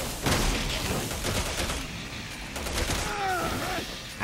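Shotgun fire in Resident Evil 6 sounds as loud, dense blasts over chaotic game noise, with whistling sounds near the end. No speech is heard.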